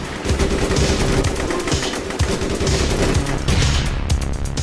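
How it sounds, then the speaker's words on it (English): Automatic gunfire from the online game All Points Bulletin, loud rapid bursts of shots rattling continuously over busy game ambience. "Oh no, they're shooting at us."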